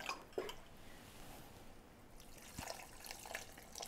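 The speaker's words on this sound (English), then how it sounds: "I'm going to go ahead and add about a cup of my shrimp stock." About a cup of shrimp stock pours into a pot for a New Orleans-style stuffed mirliton dish, a quiet splashing trickle with a few soft knocks.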